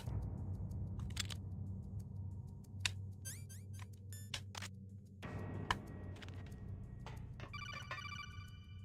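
A codec call rings in Metal Gear Solid: The Twin Snakes, with repeated short electronic trilling beeps over a low game hum, interspersed with clicks and tonal blips.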